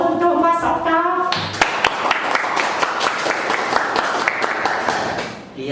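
A small audience claps for a guest on an Indonesian podcast. A voice talks briefly, then dense, close applause breaks out and holds steady for several seconds before tapering off.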